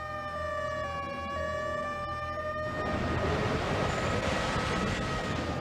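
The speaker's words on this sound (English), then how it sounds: "the Jarrell Fire Department's emergency siren sounds, warning people to take cover" Fire department emergency tornado warning siren in Jarrell, Texas, a sustained wailing tone heard from a distance that gives way to a loud rushing roar of wind.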